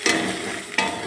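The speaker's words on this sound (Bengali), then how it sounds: "এবার ওই ঘাটকোল পাতাটা দিয়ে নাড়িয়ে নেব।" Ghatkol leaf paste fries in a pan with a close sizzle, broken by two quick scraping stir strokes, one at the start and one near the end.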